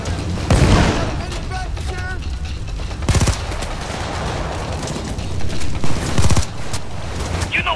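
Gunfire in the video game Payday 2, with sharp loud bursts of automatic shots spaced a few seconds apart over constant game noise and talk.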